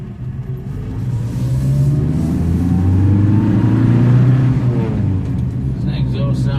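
A Vauxhall Victor FB Super burbles through its exhaust, a close, steady low rumble that swells slightly as the engine picks up, with people talking over it.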